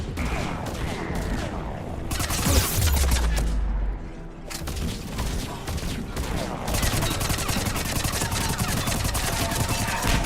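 Sustained SMG fire rattles through a Mass Effect 3 firefight in a loud, dense barrage. It eases briefly near the four-second mark, then resumes steadily to the end.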